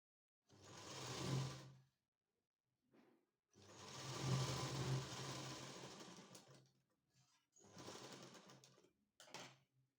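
Sewing machine stitching a belt onto blouse fabric, three bursts of fast, steady mechanical whirring separated by short pauses and a few faint clicks, close and alone.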